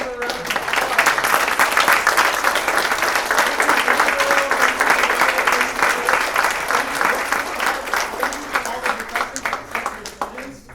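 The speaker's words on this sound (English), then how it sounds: "Let's give her a round of applause." Audience applause after a talk at a college lecture event: dense, steady clapping from a roomful of listeners lasting about ten seconds, tapering toward the end with some murmuring underneath.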